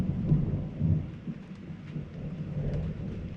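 Low thunder rumbles close overhead during a storm, rolling in two swells near the start and then a steady grumble over faint rain, with no one talking.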